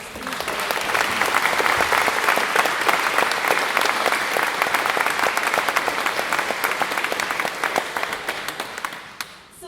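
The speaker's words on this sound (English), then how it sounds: "Just another round of applause for Colin Creedon" An audience at a UCC choir concert in 2018 applauds Colin Creedon, a dense, even wash of many hands clapping for nearly ten seconds before it fades out at the end.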